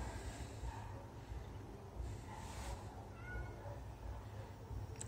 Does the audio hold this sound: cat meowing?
yes